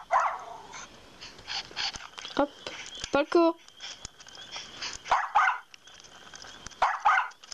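Puppy from the video game Nintendogs + Cats barking in several short bursts, with small yips and whimpers scattered between them, heard under a voice speaking and calling the dog.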